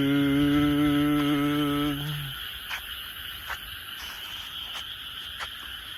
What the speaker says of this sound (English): And the raucous of all these frogs.